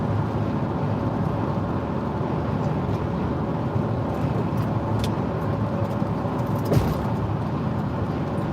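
A Toyota Corolla cruising on a highway at 115 km/h, a constant loud broadband road and wind roar from inside the cabin with faint brief ticks, steady throughout.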